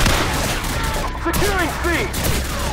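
Dense video game gunfire during a multiplayer match, continuous overlapping volleys and bursts forming a loud, steady wall of shots, with voices talking over the battle.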